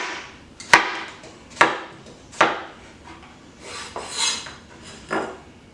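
A knife cuts vegetables into allumette strips on a cutting board, sharp near knocks in a slow rhythm, about six strikes with faint scraping between them.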